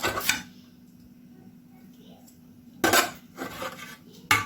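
Cooked chicken set onto a dish of rice, with a couple of loud clattering scrapes of utensils against the dish separated by a quiet stretch, then more brief knocks near the end.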